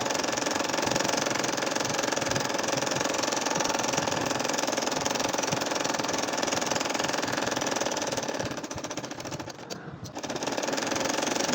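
A sewing machine stitches a nakshi kantha quilt with a continuous, even mechanical whir. The sound dips briefly near the end before resuming.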